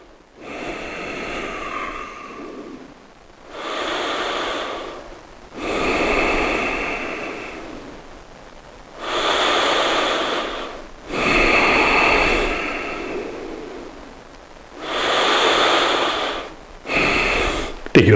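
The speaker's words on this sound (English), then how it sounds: "Deep breathing." Deep breathing during standing yoga postures: about seven slow, close, loud breaths, each a long airy rush separated by brief quiet gaps.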